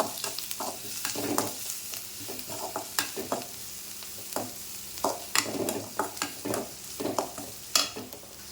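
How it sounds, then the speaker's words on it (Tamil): A spoon scrapes and stirs salt and spices through a thick mixture in a bowl for egg poriyal, with repeated irregular clinks and swishes, close by and fairly steady throughout. "இப்போ இதெல்லாத்தையும் நல்லா கலந்து விடலாம்"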